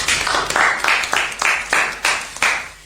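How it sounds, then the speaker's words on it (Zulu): A small audience claps together, with steady applause swelling in rhythmic pulses for about three seconds, loud and close. "Ngicela nishayele ihlombe."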